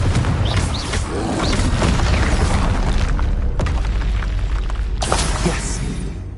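Confringo blasting-spell explosions in the Hogwarts Legacy video game, a dense, loud rumble of booms with sharp crackling bursts and a couple of impact hits over continuous low roar.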